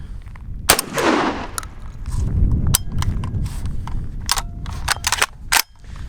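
RIA VRF14 shotgun firing number 8 birdshot outdoors, a string of sharp, loud gunshots spaced irregularly, some close together, with rustling and handling noise between shots.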